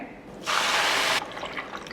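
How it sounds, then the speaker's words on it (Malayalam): Two glasses of milk poured into a pan while making bread halwa, a short steady splashing stream lasting under a second, close and alone. "ഞാൻ 240 ml ഗ്ലാസ്സിൽ 2 ഗ്ലാസ് പാലിലേക്ക് ഒഴിക്കാൻ പോവുകയാണേ"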